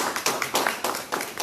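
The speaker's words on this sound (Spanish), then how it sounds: "Un aplauso para ella, por favor." Applause at a Pan-African movement tribute in Barcelona, greeting a woman in the audience: a short burst of clapping from a modest crowd with rhythmic, fairly even pulses, some hands beating together in near-unison.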